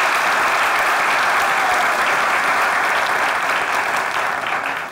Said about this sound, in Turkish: alkışlıyoruz İlmi ve Fatma'yı